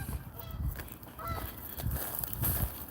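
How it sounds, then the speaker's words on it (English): Geese honk a few times in the distance over steady outdoor background noise at the Los Angeles Arboretum, the calls faint and scattered. "I finally hear geese in the background"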